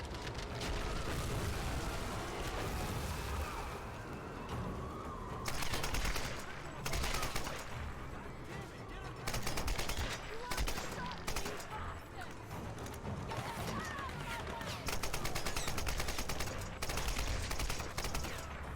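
Gunfire from a weapon in the Tomb Raider video game, with steady volleys and booming shots over a continuous noisy backdrop and a voice talking over parts of the action.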